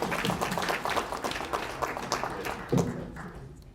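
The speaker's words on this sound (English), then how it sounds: "round of applause" An audience at a San Francisco startup demo night applauds, a burst of clapping that thins and fades out, ending with a couple of louder claps near the close.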